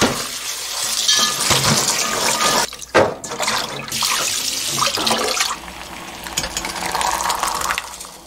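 Soaked peanuts washed under a running kitchen tap, with a loud continuous gush of water and splashing, broken by brief clinks and swishes as the nuts are stirred in the bowl. No one speaks.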